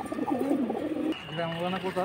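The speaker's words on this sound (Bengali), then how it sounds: "এই যে উড়ানো কবুতর সব এখন ছাড়া হচ্ছে" Pigeons at a Bangladeshi pigeon market, being released in the morning, coo close by in low rolling tones under steady background noise and possible voices.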